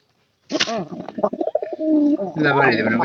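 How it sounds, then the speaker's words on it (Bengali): Close, loud pigeons cooing in a coop, with layered throaty coos and a few softer warbling calls that start after a brief silence and continue to the end. "আমি আপনাদের একটু দেখানোর চেষ্টা করি কবুতরগুলো অনেকটাই দুষ্ট হয়ে গেছে গা"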